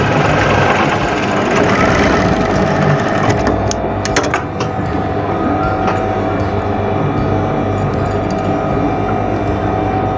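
A sewing machine stitches an apron with a fast, continuous mechanical whirr and rattle, steady and close, while a voice talks over it.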